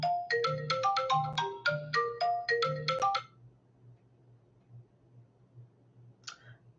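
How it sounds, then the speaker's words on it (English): A phone ringtone sounds for an incoming call, a quick bright melodic pattern repeating several times loudly for about three seconds before cutting off, leaving a quiet low hum and one faint chirp near the end. "I got a phone call."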